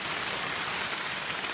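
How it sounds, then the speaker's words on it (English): Hail hammers steadily on a wigwam tent during a February overnight wild camp, a dense, continuous patter close overhead with no voices. "That's definitely hail."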